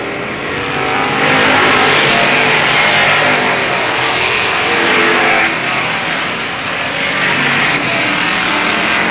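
Stock race cars roar around the oval at Avilla Motor Speedway during the 1995 season opener, a dense, continuous engine drone that swells and fades slightly as the pack passes, loud and steady throughout with no speech.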